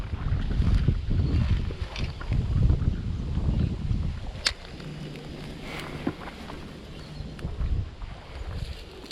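A small fishing boat heads out onto an urban river near Melbourne, with wind buffeting the microphone, water rushing and a low engine hum that steadies midway through.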